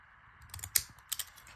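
Scissors snipping the edges of faux postage stamps in black and white, a few soft, close clicks and crisp cuts in a quiet room.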